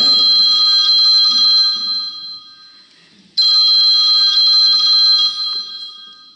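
A telephone rings loudly and close by on stage at a comedy evening. It gives two long trilling bursts of an electronic bell with a short gap between them, and faint laughter and murmuring sit underneath.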